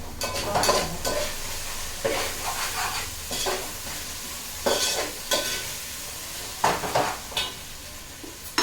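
Cashews going into prawn biryani frying in a pot, with a steady sizzle and several sharp scraping stir strokes of a metal spoon, close and clear, no talking.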